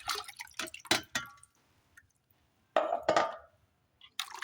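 Liquid plant tonic being poured and stirred into about 5 litres of water for hibiscus and oleander plants, a few close splashy drips and clinks in short bursts separated by quiet pauses.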